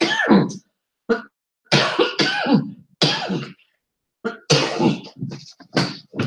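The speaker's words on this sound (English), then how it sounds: "I always seem to want to cough" A series of harsh, throaty coughs comes in quick bursts with short silent gaps, close and fairly loud.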